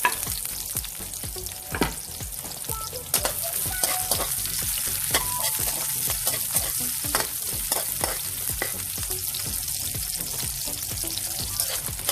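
Garlic, ginger and onion sauté in a hot pan, a dense, loud, steady sizzle broken by frequent scraping stir strokes throughout, with no talking.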